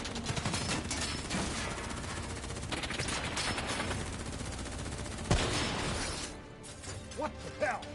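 Sustained gunfire in a Black Ops 3 campaign battle, dense automatic bursts and rattling shots layered into a loud continuous barrage with a sharp crash near the end.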